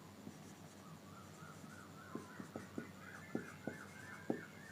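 Pen writing on paper while working a cross multiplication maths problem, faint close scratching broken by a few light taps of strokes over a quiet room hum, with no voices.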